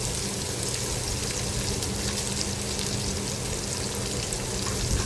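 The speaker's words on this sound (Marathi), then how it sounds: "आता उभा चिरलेला कांदा जो आहे तो घालायचा आहे" Sliced onion sautéing in oil after ginger and garlic for a veg pulao, a steady dense sizzle holding evenly loud and close throughout, with no voices.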